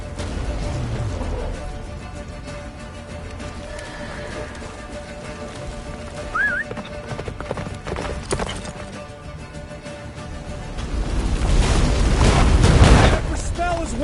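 Hoofbeats of the horse Roach galloping in The Witcher III, mixed with game noise and a distant rumble that swells toward the end, with a brief whinny-like cry and characters talking over it.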